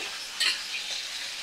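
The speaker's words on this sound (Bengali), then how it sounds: "মিডিয়াম ফ্লেমে রেখে আমি মাছ ভাজা করে নিচ্ছি" Fish rubbed with turmeric and salt frying in oil over a medium flame: a steady hissing sizzle with a brief louder spurt of spitting oil near the start, no talk.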